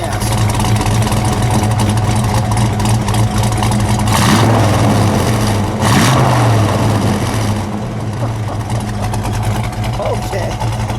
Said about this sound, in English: let's give it a little gas, Jim.